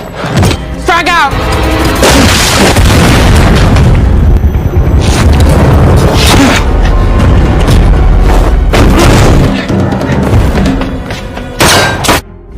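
Heavy, loud booms and thuds from a grenade blast in an action film fill a dense, continuous battle mix with gunfire and rumbling impacts, and voices come through briefly.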